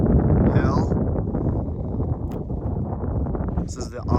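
Wind on the summit of Conical Hill in New Zealand buffets the microphone with a heavy, continuous low rumble, while someone talks through it the whole time.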